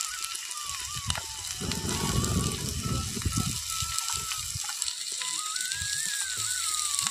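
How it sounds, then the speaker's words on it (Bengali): Thin-sliced potatoes and onion with salt frying in a pan, a steady sizzle and hiss running throughout with some stirring clatter, while background music plays. "দিয়ে খুব ভালোভাবে আলু আর পেঁয়াজটাকে এখানে ভেজে নেব"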